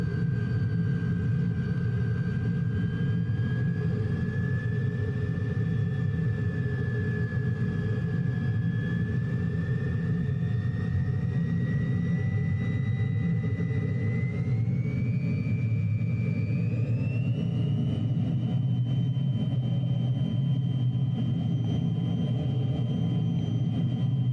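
An aircraft engine in a flight simulator drones loud and steady, its whine rising slowly in pitch as the throttle is raised very gently, with no voices over it.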